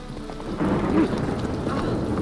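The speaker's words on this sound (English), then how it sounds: "And it's raining again" Steady rain and a low rumble of thunder in the video game Witcher 3, a dense continuous wash with a brief louder swell partway through, with no talk.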